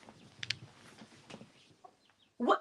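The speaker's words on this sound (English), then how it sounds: "Let me go get these chickens" Chickens indoors cluck in soft, scattered bursts at close range in a quiet room, ending with one louder, sharper squawk near the end.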